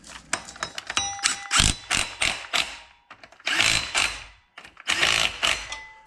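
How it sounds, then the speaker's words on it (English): Engine bolts on an 8.1L swap into an 88-98 GMT 400 truck being tightened with a ratchet-style torque wrench, giving close, loud metallic clicking bursts in uneven runs with brief pauses between them. "torque them, you know, because that's what we do around here. We torque all our fasteners."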